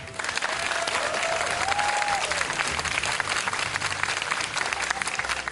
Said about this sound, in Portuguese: Muitos aplausos para Paulo Henrique Amorim.